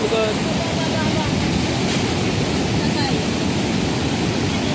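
Seawater surges in at high tide in Borongan City as a loud, unbroken rush of churning water, close and steady, with indistinct voices faintly beneath it.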